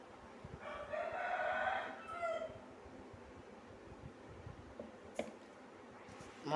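A rooster crows nearby in a home kitchen, one drawn-out crow in the first two seconds, fairly loud over low background noise, followed by quieter scattered sounds.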